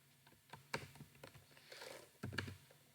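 Clicky keystrokes on a computer keyboard while code is typed, coming in irregular bursts and single taps, close and fairly quiet, with a faint low hum underneath and no voices.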